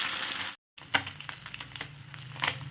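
Nadosh fish frying in oil in a frying pan over low flame, a dense crackling sizzle that cuts out briefly, then returns with scattered pops and spits, close and moderately quiet.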